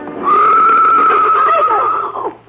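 A wild stallion neighs loudly in one long, shrill whinny that wavers and strains for about two seconds, then breaks off in a few rough snorts as the struggling horse tires.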